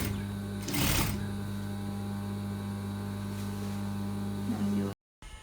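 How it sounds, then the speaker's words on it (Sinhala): Sewing machine stitching piping thread beneath the collar of an A-line frock with a Peter Pan collar, a steady continuous hum of needle and motor running close and loud for about five seconds before stopping abruptly. "කොලර් එකට යටින් තමයි පයිපින් එකේ නූල මැහිගෙන යන්නේ"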